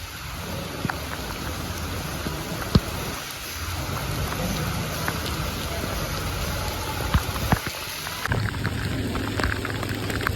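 Heavy rain pours steadily in Nellai, a dense continuous hiss of drops on surfaces, with thunder rumbling low and a few sharp cracks and drips standing out, no voices.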